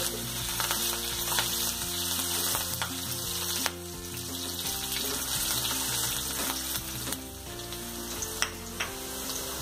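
Garlic and green chillies frying in a pan, a continuous close sizzle with scattered small pops and clicks from stirring, fairly quiet and steady with no talking.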